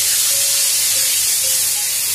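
Hot oil sizzles loudly and steadily as water mixed with turmeric and chili is poured in, giving a close, continuous hiss with no pauses.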